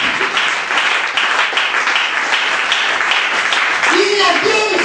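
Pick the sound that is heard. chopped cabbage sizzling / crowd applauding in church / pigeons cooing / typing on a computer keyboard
crowd applauding in church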